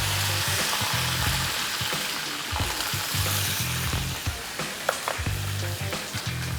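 Spices sizzle and crackle steadily in hot oil in an Indian kitchen, with sharp pops scattered through a dense, close frying hiss.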